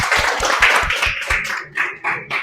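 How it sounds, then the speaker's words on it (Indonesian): Students in a fourth-grade elementary classroom clap together, a brisk run of sharp, close handclaps in a steady rhythm that gradually loosens and thins into a few scattered final claps. "jadi berikan aplaus dulu"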